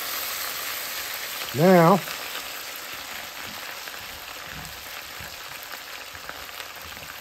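Potatoes fry in a skillet with a steady, soft sizzling hiss, and a single short spoken word briefly rises over the sound.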